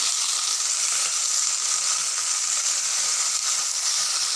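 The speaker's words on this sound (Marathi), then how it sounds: "जिरं घालून आपली गवारची शेंग टाकते तिला थोडीशी फ्राय करून घेणार आहोत" Cluster beans sizzle and fry with cumin in a hot pan, a steady bright crackling hiss that continues evenly throughout, close and fairly loud with no voices.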